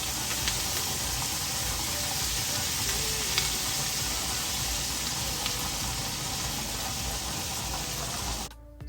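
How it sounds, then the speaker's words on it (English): Steady sizzling and frying fills the whole stretch as freshly chopped parsley goes into a pan of garlic butter salmon, loud and continuous with faint stirring, then cutting off abruptly at the very end. "for my final ingredients, I'll be going in with some freshly chopped parsley"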